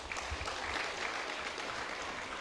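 Steady, even applause from an audience at a school debate between Lae Christian Academy and Coronation College, a dense crowd clapping at moderate distance with no talking.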